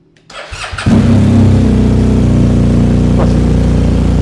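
A BMW GS triple black motorcycle in an auto parts shop fires up: a short starter whir, then the engine catches and settles into a loud, steady idle rumble close by.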